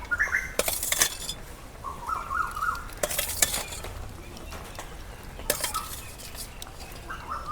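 Fried fish added to a gourd curry in a pot over a village clay stove, with several bursts of scraping and clinking from spoon against metal pot between quieter stretches of low cooking sound.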